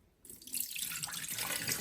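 Rice-rinsing water runs and splashes steadily into a sink after a brief quiet start, a continuous bright pouring rush without any voices.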